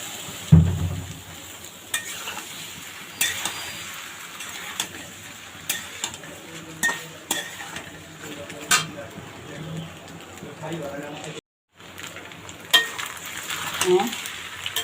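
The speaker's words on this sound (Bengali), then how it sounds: "হ্যাঁ, পাস্তাটাকে এখন ভালোভাবে নেড়ে নিতে হবে।" Boiled pasta is stirred with egg and shrimp in a frying pan, with steady sizzling and repeated sharp clinks and scrapes of a utensil on the pan; a voice speaks intermittently underneath.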